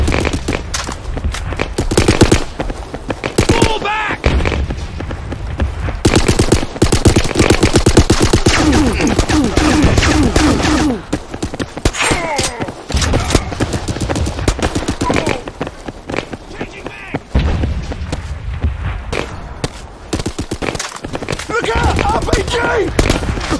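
World War 2 Reborn gunfire roars almost without pause, with loud, close machine-gun bursts and scattered rifle shots layered into a chaotic battle din that briefly dips and then resumes.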